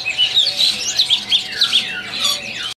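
Cucak jumbo songbirds in a bird shop kiosk sing in loud, close bursts of bright warbling chirps and squawky phrases, several calls in quick succession without a break, then stopping abruptly.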